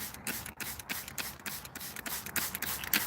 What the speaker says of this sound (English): when I spray him, the water beads right off of his feathers